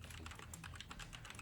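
Rapid, continuous typing on a computer keyboard, a dense run of quiet key clicks close to the mic.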